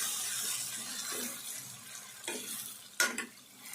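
Tomato and eggplant curry gets stirred in a pan: soft wet scraping and shuffling, close and fairly quiet, with a couple of sharper clinks and a low simmering hiss, no speech.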